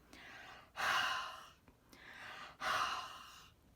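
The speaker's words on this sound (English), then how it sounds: "I'm going to breathe on it anyway." Two long, close breaths blown onto a large rubber stamp to re-moisten its ink, each a soft hollow exhale lasting under a second, separated by a short pause, with no talking.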